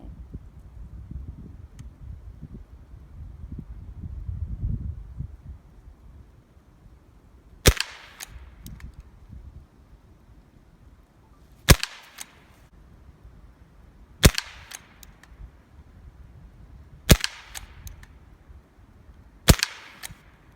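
Five sharp shots from a Benjamin Wildfire PCP air rifle fired from a bench, spaced a few seconds apart, each a crisp snapping crack with a short ring-off, over quiet outdoor background with low rumble early on.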